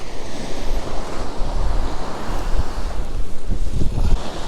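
Strong wind buffets the microphone on a beach during a fishing session, with a steady roar of surf beneath and occasional low thumps, loud and continuous with no voices.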